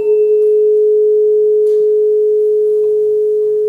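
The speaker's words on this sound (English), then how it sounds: "the three sound files for tone 1, tone 2, and the superposition of the two tones are linked here" Two pure electronic sine tones are superimposed. A loud, steady, unwavering tone dominates throughout, while a fainter higher tone fades out early. There is no other sound.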